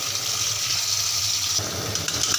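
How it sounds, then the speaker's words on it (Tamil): Cold water pours over boiled pasta in a colander to rinse it, a steady close-up gush and splash that runs without a break and with no voices. "கொஞ்சமாக பச்சை தண்ணி ஊற்றி கழுவிக்கலாம்"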